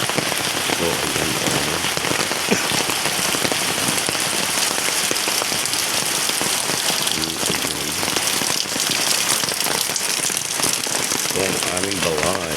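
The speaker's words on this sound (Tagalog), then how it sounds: "Lakas ng ulan." Heavy rain pours steadily onto surfaces around a house near a highway, a dense, continuous hiss and patter with no letup, loud and close throughout.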